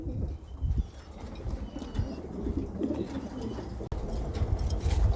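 Meat-breed pigeons, Roman and King types, coo continuously in a loft, with low throaty calls overlapping close by and an occasional wing flutter.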